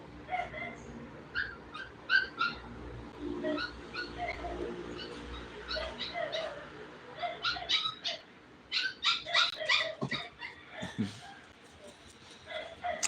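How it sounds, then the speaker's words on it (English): A big dog and a small dog bark intermittently in the distance at a neighbor's, some deeper woofs and some higher yips, faint against a quiet background with occasional soft sounds nearby. "a big dog barking and a small dog barking from our neighbor"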